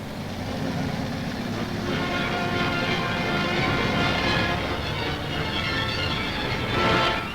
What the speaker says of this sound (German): Hier herrscht ein reger Verkehr zur Front.